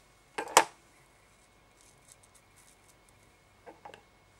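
Scissors trimming crystal hair while tying an Abby Shrimp salmon fly, a couple of sharp close snips at the start and a softer pair of clicks near the end, with quiet in between.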